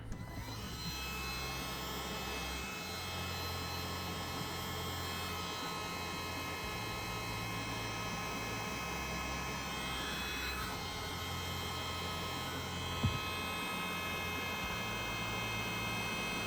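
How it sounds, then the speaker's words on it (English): Heat gun blowing hot air to shrink heat-shrink tubing on speaker wiring for a 2026 Toyota RAV4 dash speaker swap, a steady, fairly faint whooshing hum that runs unbroken throughout. "all that's left is to use the heat gun for the heat shrink"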